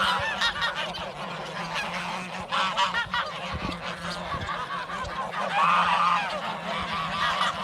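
A flock of geese honks steadily and loudly up close, overlapping calls filling the whole stretch with no talking.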